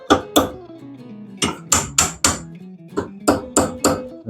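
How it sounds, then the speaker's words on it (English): Hammer blows striking a clutch pushrod on a 1957 Chevy, loud and close, in irregular bursts: two quick hits, a pause, then a fast run of three or four strikes, another pause and another cluster of ringing metallic impacts. "Gotta smack it with a hammer."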